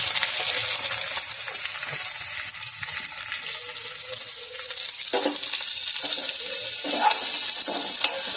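Onion frying with cumin, garlic and curry leaves in a pan, a loud continuous sizzle with intermittent stirring scrapes.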